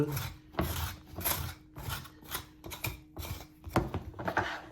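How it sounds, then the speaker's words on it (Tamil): Skin being scraped off a snake gourd, a run of close, rhythmic rasping strokes with brief pauses between them. "நாங்கள் இப்படி தோலை நாங்கள் வடிவாக சீவி எடுப்போம்"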